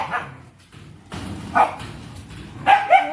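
Several dogs bark and yip in short, scattered bursts, a few sharper barks near the end, with a brief human voice at the start.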